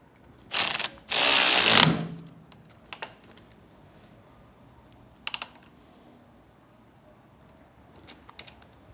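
Ratchet wrench with a 17mm socket tightening a handlebar riser bolt on a 2024 Triumph Bonneville T120, heard as a close, loud burst of rapid clicking followed by a few short isolated ratchet clicks.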